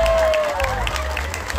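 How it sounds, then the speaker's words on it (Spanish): Outdoor crowd applauds at a neighborhood carnival coronation in San Alejo, with steady clapping and cheering close by. A held tone and background music run underneath throughout the short burst. "¡Fuerte el aplauso!"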